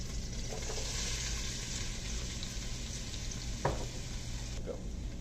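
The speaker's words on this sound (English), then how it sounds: "I'm going to add a diced yellow onion, and we're going to let that cook for 5 minutes until it's softened" Diced yellow onion cooking in canola oil with garlic on a stovetop, a steady hiss of frying with an occasional spoon tap and stir, fairly close and moderately quiet.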